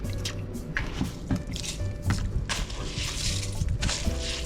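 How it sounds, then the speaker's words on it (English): Rice being poured into coconut milk in a pot, wet squishing, dripping and splashing with scattered grainy impacts, close and continuous, no speech. "now I'm adding my rice to my coconut milk"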